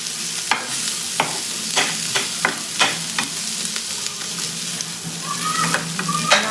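Mashed potato frying and sizzling in a hot pan for a spicy potato sandwich filling, with a steady crackle broken by sharp scraping stir strokes near the mic and no talk.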